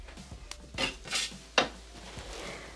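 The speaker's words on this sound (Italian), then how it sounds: "Riunire sul fondo del boccale con la spatola." A spatola scrapes the inside of a Thermomix (Bimby) mixing bowl with several close, sharp scrapes and knocks. They come in a loose rhythm over a quiet background with no talking.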